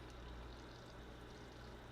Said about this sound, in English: You're going to turn on your faucet.